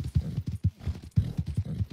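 Galloping horse hooves in the game Red Dead Online, a quick repeating clip-clop pattern heard up close and alone, with a brief break mid-stride.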